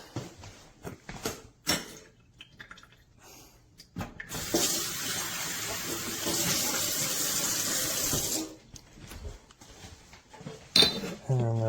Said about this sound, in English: it also drains a little bit, cleans the spouts, just a little rinse